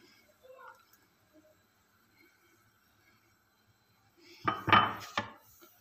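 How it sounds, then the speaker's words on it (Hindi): A spoon scrapes and clatters against a metal pot while sugar is stirred into a bread kheer mixture, a couple of loud close clanks near the end after near silence with faint background noise. "चीनी को अच्छी तरह से मिक्स करेंगे।"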